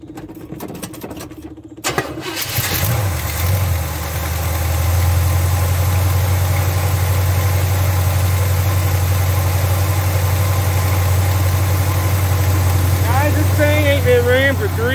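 A 1978 Chevrolet Scottsdale pickup engine with a cherry bomb exhaust, sitting unused since 1996, fires up after a brief crank and settles into a loud, steady low rumbling idle that runs throughout.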